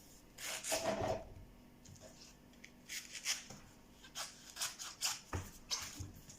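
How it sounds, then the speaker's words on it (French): A knife chops leeks on a cutting board in a soft burst, then a quick run of close, fairly faint cuts with short rhythmic thuds and rustling leaves. "sur ma planche à découper, donc je vais couper tous mes poireaux"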